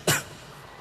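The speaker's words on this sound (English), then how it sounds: "I was just clearing my throat." A single short, close throat clearing, a quick raspy burst that fades within a fraction of a second, with no speech over it.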